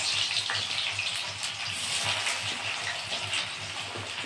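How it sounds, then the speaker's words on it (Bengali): Sliced onions frying in hot oil for biryani, a steady close crackling sizzle with bubbling, continuous and fairly loud throughout. "এখন ও পেঁয়াজ দিয়ে দিচ্ছে। ভাজো, দেখো না তেলটা গরম হয়েছে।"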